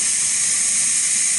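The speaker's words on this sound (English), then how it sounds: "To use the injector, live steam injector, turn the water on" Live steam injector on a 7.25 inch gauge GWR 14xx class model locomotive gives a steady, loud, close hiss that holds evenly throughout without pause.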